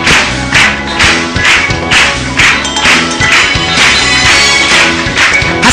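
A church congregation claps in rhythmic unison, steady pulsing hand claps repeating about twice a second alongside music and voices.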